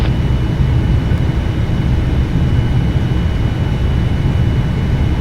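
An Air France airliner takes off in the Prepar3D flight simulator, its engines a dense, even roar with a heavy low rumble that holds steady throughout, alone and without voices.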